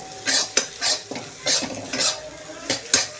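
Egg being stirred and cooked over high heat in a pan for chicken noodles, with repeated sharp scraping and clinking strokes of a utensil against the pan and a soft sizzle underneath, close and clear.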